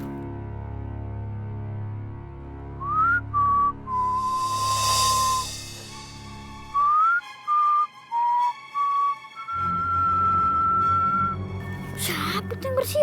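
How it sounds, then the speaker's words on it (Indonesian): A person whistles a melody in rising and steady tones, with short repeated whistled phrases in the middle. Faint background sound runs underneath, and a brief loud burst comes near the end. "Siapa tuh yang bersiul?"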